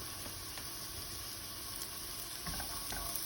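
Onions and vegan crumbles sizzle in a generous pour of olive oil in a pan, a steady close hiss with faint stirring scrapes throughout and no talking.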